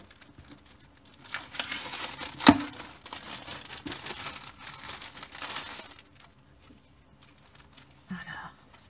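Paper packaging crinkles and tears as a parcel of decorative cutting paper is unwrapped, a busy rustling burst lasting several seconds with a sharp rip, then quieter handling and a brief final crinkle.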